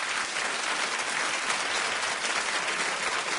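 A talk-show studio audience claps steadily and loudly, dense continuous applause with no voices audible over it.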